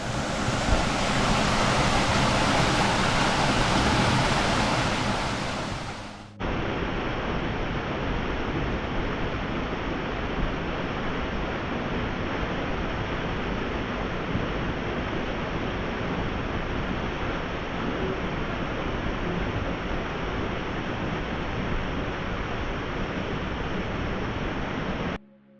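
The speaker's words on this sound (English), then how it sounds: "These waterfalls and pools are absolutely fantastic." Waterfalls in a Lake District gill near Newlands pour into deep pools with a steady, loud rushing roar that runs without a break, with no voices.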